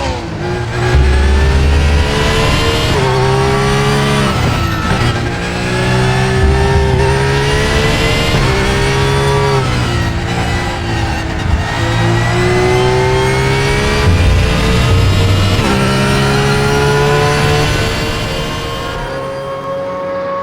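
A DTM race car engine in the video game RaceRoom revs loudly and continuously, its pitch climbing and dropping through gear changes with a raspy, free-breathing tone, no voices.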